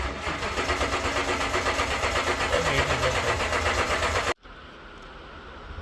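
A Toyota engine cranking without starting, a 2012 Tundra or LS 430 with a fuel pump fault, churning in a steady rapid rhythm, loud and close, then cutting off abruptly to a quieter hum.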